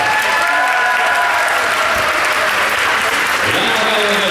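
Loud, sustained applause from a dance competition crowd in Tartu greets a ballroom dance couple, continuous clapping with a few cheers and faint voices beneath.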